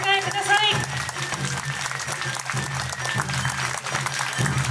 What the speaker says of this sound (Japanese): 子どもたちの可愛らしい演技にどうぞ皆様大きな拍手でお迎えください